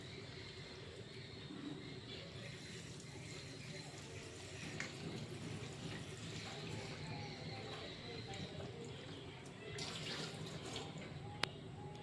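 Pabda fish being rinsed with salt in water, a soft steady splashing and trickling that runs on quietly for several seconds at low level.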